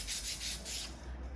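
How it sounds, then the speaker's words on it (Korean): Sandpaper rubs back and forth over a flat wooden kit plate in a steady rhythm, with about four close, crisp scratchy strokes and no talking. "다 사포를 이용해서 부드럽게 만들어주세요"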